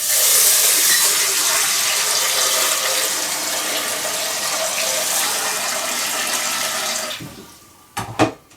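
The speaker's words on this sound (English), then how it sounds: "What we need to do is wash the rice slightly, because there's going to be a lot of starch on there." Rice washed in a bowl of water to rinse off starch: a steady rushing, sloshing water sound that runs loud for about seven seconds, then drops away to a few short knocks and splashes near the end.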